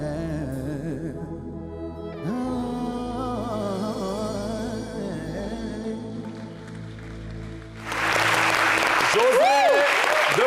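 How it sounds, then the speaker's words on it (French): A TV studio audience at a special broadcast bursts into loud applause near the end, following a stretch of singing with music. "Merci de l'applaudir."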